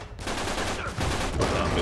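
Shotgun fire in Uncharted 3, loud dense blasts of gunfire packed closely together over a short burst of game action.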